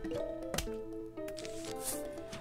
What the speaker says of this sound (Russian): Так, последний подсолнух я сажаю.